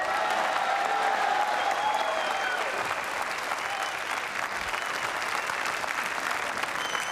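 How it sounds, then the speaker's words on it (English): A crowd applauds the champion at the 2000 World Pool Championship final, a steady, even roar of clapping heard from a distance that eases slightly toward the end. "The crowd acknowledges our champion."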